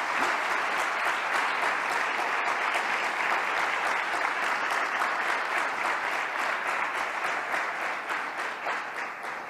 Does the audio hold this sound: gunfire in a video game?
no